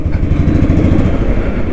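A Royal Enfield Thunderbird motorcycle engine idles up close with a loud, steady low rumble and no change in pace.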